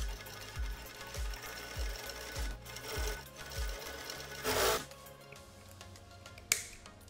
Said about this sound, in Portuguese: vou dar sequência na costura